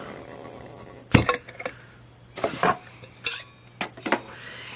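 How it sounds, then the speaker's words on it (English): Lid of a stainless steel powder-coated travel tumbler being removed, giving a sharp metallic clink followed by several lighter clattering knocks and scrapes, close and fairly quiet with no talking. "I'm going to go ahead and take the lid off."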